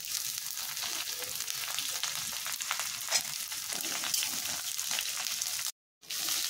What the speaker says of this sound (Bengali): পেঁয়াজটা ভাজা হয়ে গিয়েছে, এবার দিয়ে নেব ক্যাপসিকাম